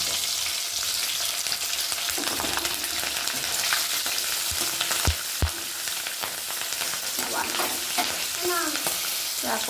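Green chilies frying in a pan with potatoes, cardamom and mace, a steady crackling sizzle throughout, with a few stirring scrapes and clinks of a utensil against the pan.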